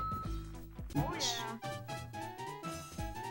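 A cat meows clearly over a steady musical background in the game Paperboy 64, with a person talking around it; the meow is close and distinct.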